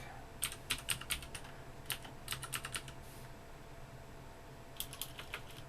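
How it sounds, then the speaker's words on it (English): A password being typed on a computer keyboard during setup of a System76 Thelio desktop: quiet, close clusters of quick keystrokes in three bursts, with pauses between them and no voice. "Set my password. Clickety click click click."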